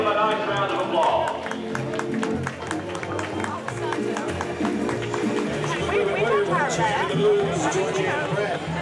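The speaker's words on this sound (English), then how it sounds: "Would you give them a nice round of applause?" A horse show audience applauds and cheers for the winning amateur rider taking the blue ribbon down Victory Lane, sustained crowd clapping and hubbub with an announcer talking over it.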